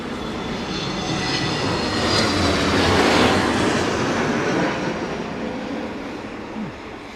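An Aer Lingus aircraft at Heathrow Airport during a storm gives a sustained jet roar that builds and peaks mid-clip before easing, steady and fairly loud with no voices.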